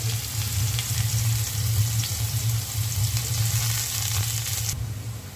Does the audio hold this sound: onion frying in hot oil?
yes